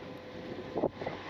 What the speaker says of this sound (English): good wind out here for checking it out